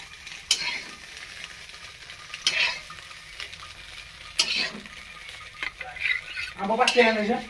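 Eggs frying in a pan, with crackling sizzle bursts and stirring scrapes recurring in short clusters at close range, growing busier toward the end; no talk.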